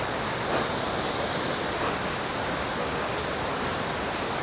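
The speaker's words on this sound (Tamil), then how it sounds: "குட்டி அருவி பக்கத்தில் வந்துட்டோம்." Small waterfall at Ban Gioc Waterfalls on the Vietnam border, a steady broadband rush of falling water, loud and close, continuous throughout with no voices.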